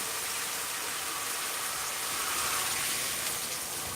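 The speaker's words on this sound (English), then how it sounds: "Put in some hot water." Hot water hissing and sizzling as it is poured into a hot cast iron pan to clean it, a steady, dense rush that continues without a break.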